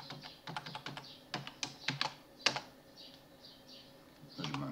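Quick, uneven keystrokes on a computer keyboard as a password is entered on a Linux Ubuntu machine while installing the Nginx web server, clicking in short bursts up close with faint room noise between.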